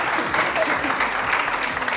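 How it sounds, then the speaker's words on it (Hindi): A studio audience at a Pakistani TV morning show bursts into continuous, dense applause, many hands clapping at close range for the whole moment. "तालियां बजाइएगी।"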